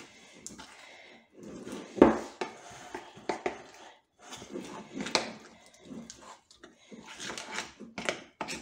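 Smoked bacon lardons stirred into a thick cake batter in a bowl, irregular wet scraping and clacking of a utensil against the bowl in bursts with short pauses, close and moderately loud.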